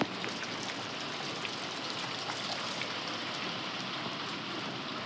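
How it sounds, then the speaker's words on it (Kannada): Heavy rain pouring down outdoors, a dense, even hiss of falling drops and water splashing on surfaces that continues steadily and fairly softly without any voices. "ಇಲ್ಲೆಲ್ಲ ಮಳೆ ಕುಂತೈತ್ರಿ ಈಗ"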